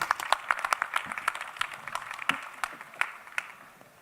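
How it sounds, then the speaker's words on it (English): Sparse, fairly quiet clapping from an audience at a panel on protecting communications networks, individual claps distinct and thinning out over the few seconds. "Please give them all a big round of applause."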